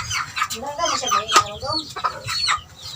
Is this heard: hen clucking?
yes